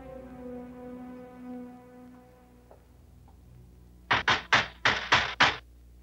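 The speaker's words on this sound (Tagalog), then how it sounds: "Sino pa ito? Napakalakas namang kumatok." Loud knocking on a door in a 1993 Filipino film scene: six heavy, evenly spaced raps close by, following a quieter stretch of low background tone.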